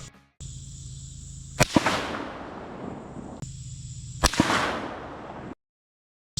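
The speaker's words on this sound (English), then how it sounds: "that was my second shot just then" Two sharp rifle shots fired at a target outdoors, each a loud crack followed by a long rolling echo, separated by a few seconds of steady background hum.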